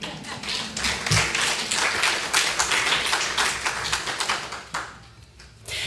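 A church congregation at a Sunday service claps in a sustained round, crisp and fairly close, rising quickly and then thinning out near the end.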